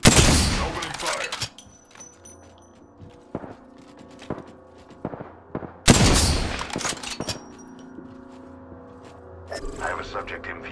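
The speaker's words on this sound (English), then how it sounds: "Opening fire." The Sentinel sniper rifle in Apex Legends Season 4 fires two loud, sharp shots, one at the start and one near six seconds, each with a ringing tail. Scattered clicks and brief talk sit between them.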